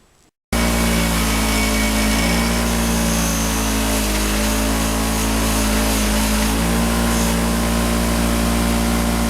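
A bench-mounted wire wheel spins at a steady high speed, grinding paint off Kawasaki Ninja 650R rear axle parts. It is a loud, continuous motor whine with a scratchy brushing texture that begins abruptly after a brief quiet moment.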